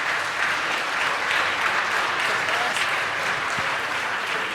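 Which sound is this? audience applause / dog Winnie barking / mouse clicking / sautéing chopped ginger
audience applause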